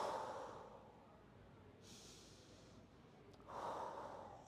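Slow deep breaths taken while holding a side-lying back stretch, a soft drawn-out exhale followed by a quiet pause and another breath, close and faint with no talking.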